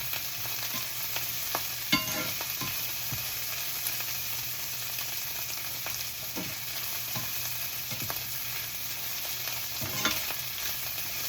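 Dried shrimp frying with onions in a pan, a steady close sizzle with occasional scraping stirs of the spoon, no voices.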